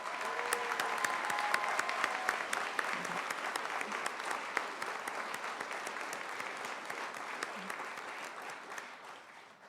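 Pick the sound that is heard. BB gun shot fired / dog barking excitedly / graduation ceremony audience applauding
graduation ceremony audience applauding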